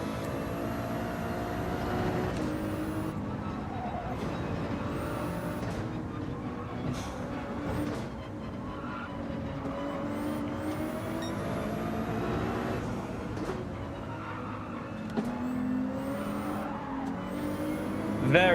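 Race car engine in Gran Turismo 7 at Deep Forest, a steady loud drone climbing and dropping through gear shifts lap after lap, with brief lifts for corners.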